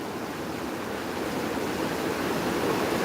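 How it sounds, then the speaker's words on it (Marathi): Loud, steady rushing of a strong water current carrying a large log of babul wood along, a dense broadband roar that swells slightly toward the end, with no voices over it. "कसला आवाज उलाला पाण्याचा"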